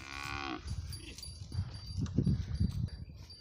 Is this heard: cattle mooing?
yes